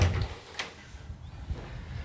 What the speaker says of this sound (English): I'm going to go out the front door